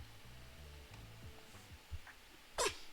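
A short, sharp sneeze bursts out near the end over quiet game music, with a softer breathy sound just before it.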